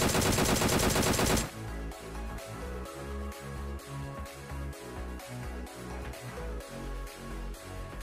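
PUBG Mobile gunfire opens with a dense, loud blast, then settles into rapid, evenly spaced bursts of shots that run on with no talk.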